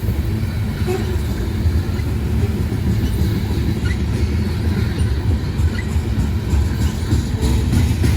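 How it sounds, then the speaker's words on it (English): A unit grain freight train with two DPUs on the end rumbles loudly and continuously nearby as it pulls out of Whitefish, Montana, with a deep engine drone and faint clattering wheels as it pulls away. "we see this unit grain train pulling out of Whitefish, Montana with 2 DPUs on the end."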